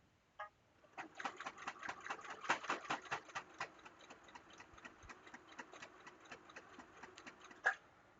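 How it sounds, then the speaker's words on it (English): A sewing machine stitches fabric for a wrist strap keyring, its needle running in a steady rapid tapping rhythm for several seconds, close and moderately loud, with a single sharper click near the start and another near the end. "I'm guiding the fabric through the machine, moving the D-ring or the lobster clasp."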